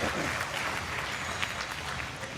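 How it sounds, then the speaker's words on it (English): Applause for a performer at a Kenya Red Cross volunteer awards ceremony, a steady crowd clapping heard at a distance, continuous and moderately loud. "Yo, let's give that gentleman another round of applause."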